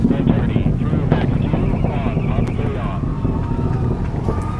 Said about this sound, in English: the SLS rocket traveling faster than the speed of sound